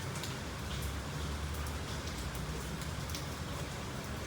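Steady rain pours down without a break, a dense even wash of drops on surfaces with no letup, fairly faint overall and no voices.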